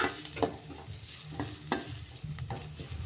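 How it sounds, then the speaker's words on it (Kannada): Ginger garlic paste with curry leaves fries in a pan, a soft close sizzle punctuated by several sharp scraping stirs of a spatula at irregular intervals; no talking. "ಸ್ವಲ್ಪ ಗೋಲ್ಡನ್ ಕಲರ್ ಬರೋವರೆಗೂ ಫ್ರೈ ಆಗಲಿ."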